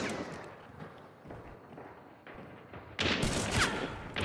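Video game gunfire aimed at a wire, a few muffled shots followed by a louder burst near the end, with no speech.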